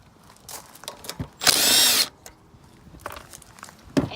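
A power tool on a 212 engine runs in one short, loud half-second burst while removing the air filter's two 10mm bolts, with scattered lighter clicks and knocks before and after.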